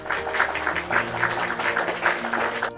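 A small crowd applauds, a brief burst of steady clapping at moderate volume.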